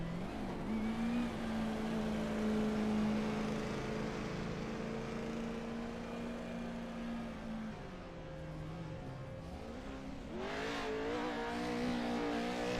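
GR86 race cars in the pits of a sim racing game, with a continuous engine drone that dips and then rises into revving acceleration near the end, loud and steady with no talking.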